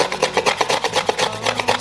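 A luthier rhythmically sands and scrapes a carved wooden violin body, giving close, loud rasping strokes that repeat at a quick, even pace of about four per second.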